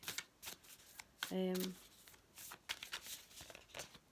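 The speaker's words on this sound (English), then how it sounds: "Just going to do a little shuffle." A deck of tarot cards being shuffled, a brief riffling burst with crisp rapid card flutter, surrounded by soft handling noises and a faint background voice.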